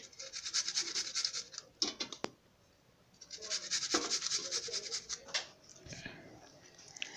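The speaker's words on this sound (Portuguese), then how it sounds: "eu vou ralar três alhos aqui" Three garlic cloves are grated in a home kitchen, giving close, dry, rasping scratches in bursts with a short pause between them.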